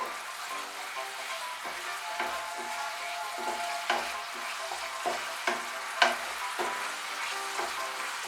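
A spatula stirs eggplant gravy in a pan, clicking and scraping in an irregular rhythm of taps above a low, steady sizzle, close by with no talking.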